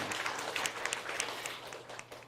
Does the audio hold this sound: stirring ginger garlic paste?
no